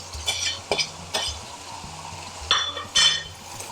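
Curry sauce with mango being mixed in a pan, a handful of separate stirring scrapes and utensil clinks against the pan over a soft simmering sizzle, close by.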